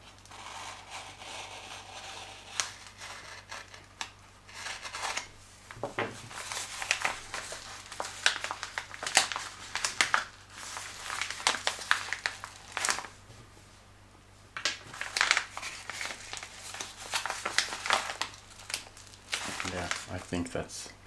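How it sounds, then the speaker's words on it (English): A small X-Acto knife slicing into the packaging of a Klom lockpick set, giving irregular close crinkling, scraping and clicking bursts that come and go with brief pauses, under quiet background. "Little X-Acto knife."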